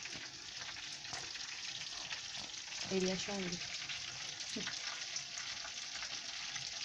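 Continuous crackling sizzle of manti dumplings frying in oil, steady throughout, with a brief voice speaking softly in Turkish over it.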